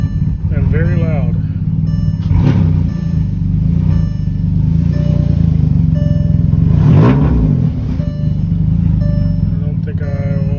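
Engine of a salvage-auction VW Touareg running loudly, a steady rough drone with clattering and occasional revs throughout, close by, while people talk over it.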